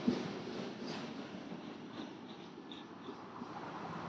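Faint, distant low rumble of freight trains rolling by, a steady muffled roar with a thin high squeal near the end.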